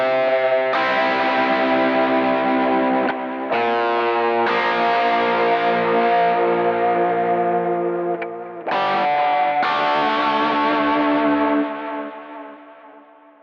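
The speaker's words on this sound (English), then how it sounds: "focused sound with like some tape delay on it that has like wow and flutter" An electric guitar through a Kemper profiler with tape delay rings out in long sustained chords with wavering wow and flutter, loud and focused with a slightly distorted edge, each chord re-struck and finally fading out.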